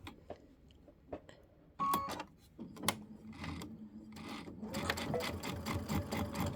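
A household sewing machine stitches binding onto a Christmas quilted piece, starting with a few clicks and short whirring runs, then settling into a steady mechanical rattle of rapid needle strokes close by, with no talking.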